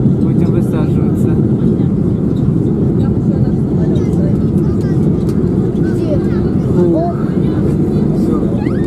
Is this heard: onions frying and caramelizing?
no